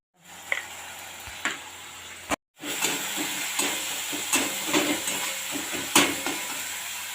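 Garlic, ginger paste and turmeric fry in hot oil, a steady sizzle with occasional spatters and pops after the paste drops into the pan, close and fairly quiet, with no talking.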